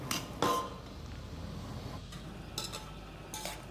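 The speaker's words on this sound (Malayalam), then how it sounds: "കട്ട് ചെയ്ത് ക്ലീൻ ചെയ്ത് വെച്ച വെജിറ്റബിൾസ് എല്ലാം ഒന്നിട്ട് കൊടുക്കുക." Cut vegetables tipped into a cooking pot for vegetable pulao, giving a couple of clattering clinks of utensil against metal near the start and later, over a low steady kitchen background.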